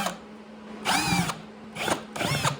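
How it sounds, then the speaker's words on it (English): Step drill bit boring through a plastic bucket for a DIY shop vac dust cyclone, in three loud whining bursts separated by short pauses, each with a rising and falling pitch as the bit cuts through. "These step bits are perfect for drilling through plastic."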